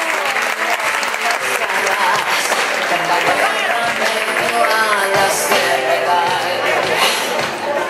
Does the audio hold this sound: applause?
yes